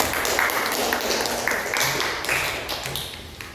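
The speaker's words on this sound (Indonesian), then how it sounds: "beri dulu tepuk tangan kepada temannya ya" Students in a classroom applaud their classmates, with dense, steady clapping that fills the whole moment at moderate loudness and a few sharper claps standing out.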